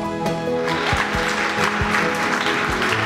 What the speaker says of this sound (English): And then in the end, when people are clapping